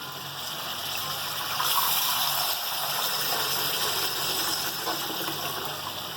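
Two cups of water pour steadily into a cooking pot of fry kebab masala, a continuous gushing rush that swells slightly midway and runs on alone without talk.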